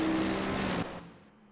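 Car engine in a racing video game, a loud steady engine drone that cuts off abruptly after under a second, leaving faint low hum.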